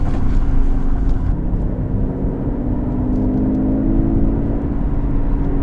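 Turbocharged V12 engine of an Aston Martin DB11 running steadily close by, a deep continuous drone with a low tonal hum that holds for several seconds without pause.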